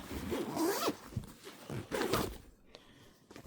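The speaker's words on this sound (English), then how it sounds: "let me zip this back up." Zipper being pulled closed on a 40-litre travel backpack, several quick rasping strokes in a row, close and fairly loud, with a short pause before a final tug.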